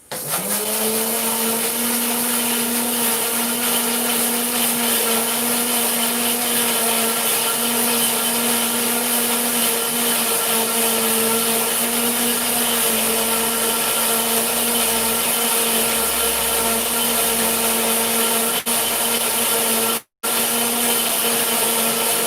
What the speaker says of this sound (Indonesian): ini aku mau blender guys, biar agak berbuih gitu ya guys